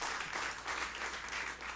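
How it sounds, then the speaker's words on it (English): Audience applause rises at the close of a live rock instrumental performance, dense clapping filling the short stretch at a distance with no talk over it. "I was expecting the clapping to start sooner, but they're waiting to the last remnants"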